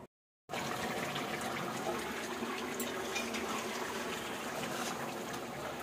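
Fish being rinsed in a home kitchen, with steady running and trickling water splashing continuously after a short silent start, fairly quiet and close.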